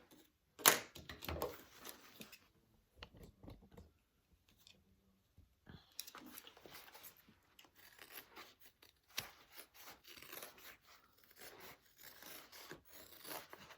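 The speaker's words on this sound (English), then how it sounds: "you can go ahead and trim that seam allowance down" Scissors snipping down a fabric seam allowance on a sewing project, a close run of crisp cutting strokes near the start, a quiet pause, then steady rasping snips continuing to the end, with no talking.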